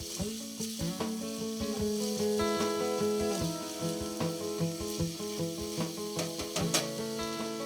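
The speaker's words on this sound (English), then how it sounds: "you want to let them cook like this on medium heat, not higher than medium" Calamari sizzles and fries in a pan over medium heat while being stirred, with steady sizzling broken by repeated scraping strokes against the pan. Music plays throughout, and there is no talk.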